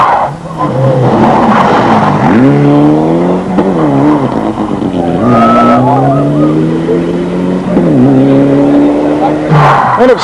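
A rally car leaves the start of stage 2 at the 1996 Snowline Rally near Ohakune, its engine revving hard and pitching up and down through the gears, loud and close, with a voice faintly beneath.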